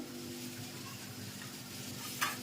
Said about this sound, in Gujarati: મોરૈયો વઘારવાનો છે,